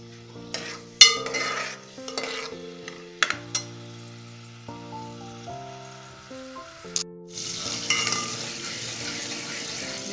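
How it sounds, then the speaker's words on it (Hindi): Green chilies and cumin seeds fry in oil for a garlic spinach dish, a soft crackling sizzle broken by stirring clinks of a spoon against the pan, ending in a brighter hiss. "अब हम सबसे पहले इसमें डालेंगे हरी मिर्चें और 1 टीस्पून ज़ीरा"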